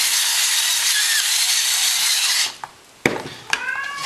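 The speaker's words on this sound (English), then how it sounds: "grate just a little bit of nutmeg" Nutmeg is grated on a kitchen rasp for a pork tenderloin cheese steak sauce, a steady close scraping that runs about two and a half seconds, then a few sparse taps and scrapes.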